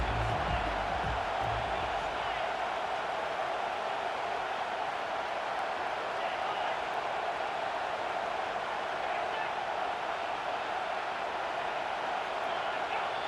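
A college football video game stadium crowd roars in a steady, dense wall of noise that stays constant from start to finish.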